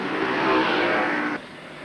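Ducati 900 SS racing motorcycle engine at the 1977 Castrol 6 Hour race, a loud sustained roar that swells and then drops sharply as the bike passes, with no talk over it.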